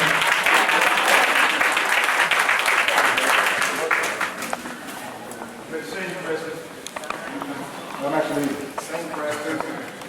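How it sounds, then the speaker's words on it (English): An audience at a memorial service claps in a full, sustained round of applause that thins out after a few seconds as voices and murmuring take over. "If you would give us a round of applause as my sisters sing."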